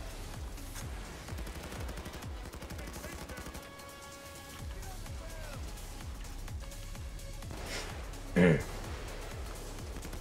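Rapid bursts of Commando 553 assault rifle fire in the shooter game Payday 2, repeated crisp shots in quick runs of automatic fire, with someone talking over the gameplay.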